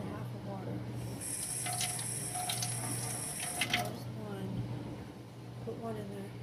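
Water is poured from a tap while making a Yummi Nummies s'more maker toy, a steady trickling stream under close talking.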